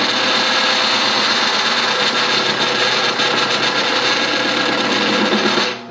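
A wood lathe turns a table leg, producing a loud, continuous whirring drone with a rough rattling texture throughout, close and uninterrupted until it cuts off at the end.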